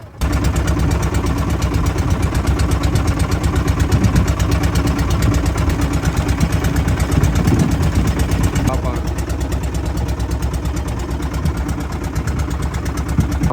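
A fishing boat's engine chugs steadily and loudly, running toward the shore after a night of cage-trap fishing, a constant close throbbing rumble throughout.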